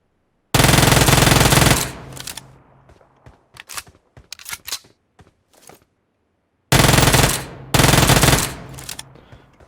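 Loud automatic gunfire in PUBG Mobile: two long bursts of rapid fire separated by scattered single shots and quieter clatter, then a gap of silence and two more sustained bursts close up.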